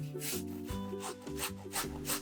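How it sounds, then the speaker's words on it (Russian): Three large potatoes rubbed against a kitchen grater, a steady scraping rasp in repeated strokes, close and fairly quiet, with no talking. "первым делом натрем на терке 3 крупных картофелины"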